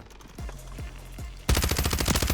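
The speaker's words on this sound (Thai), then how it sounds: "โอ้ยิงแบบรัวๆมากตอนนี้" Rapid gunfire in the Warzone video game: a few spaced shots, then a dense, loud burst of automatic fire with no pauses.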